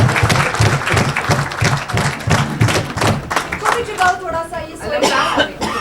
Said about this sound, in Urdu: ایک بار اچھی سی تالیاں بجائیں